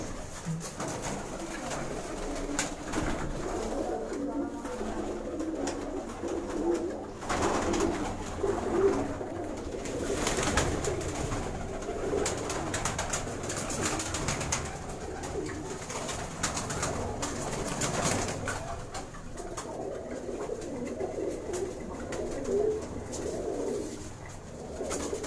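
Pigeons coo continuously at a hobbyist's loft, with overlapping soft, rolling calls near and far and a steady busy background throughout.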